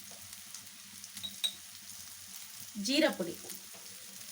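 Chilli, coriander and cumin powders frying in a pan for a brinjal curry, a soft steady sizzle that swells into a louder burst of frying near the end while someone talks over it.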